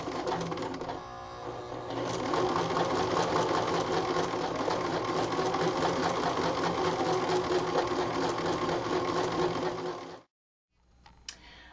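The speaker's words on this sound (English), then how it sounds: "lightly press down on your foot pedal. Have two hands on your fabric at all times and slowly begin to sew." A sewing machine stitches a first seam on fabric, starting with a few slow stitches, then running at a steady rapid rattle close up for several seconds before stopping abruptly.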